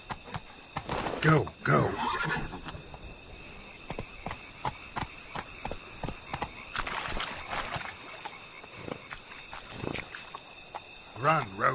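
Roach, a horse in The Witcher video game, gallops with rapid rhythmic hoofbeats under neighs and whinnies, set against a steady game soundscape while a voice calls out commands.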